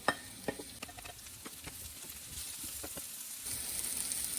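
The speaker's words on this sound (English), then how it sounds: "drop all the mushrooms into the pan" Mushrooms and garlic sizzling in a pan, a faint continuous hiss broken by light crackles and pops, heard up close with no talking.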